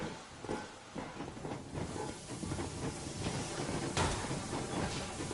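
A steam train pulling away in the video game Metro Exodus, with a steady loud hiss of steam and a rumbling rolling clatter throughout, and no speech over it.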